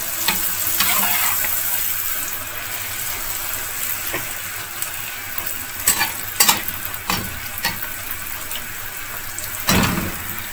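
Puris deep-frying in hot oil for a halwa puri meal give a steady sizzling bubble throughout, with a few sharper clinks and splashes near the middle and a louder burst near the end; no talking.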